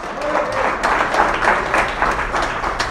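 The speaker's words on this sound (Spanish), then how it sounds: "Le damos un aplauso al Rey soberano." A church congregation applauds together during a Spanish-language Christian sermon, a dense, steady wash of clapping that carries loudly through the whole short stretch.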